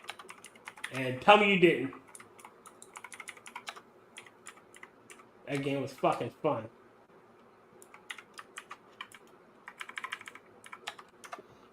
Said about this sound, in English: I'm quickly typing a message back to someone.